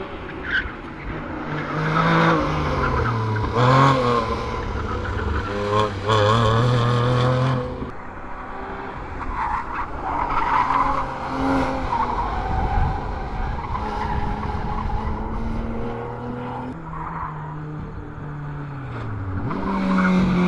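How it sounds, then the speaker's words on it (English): A Porsche 911 GTS is driven hard through an autocross course, its engine revving up and down as the tires squeal repeatedly through turns, loud and continuous with no talk over it. "The car's gonna fly through here."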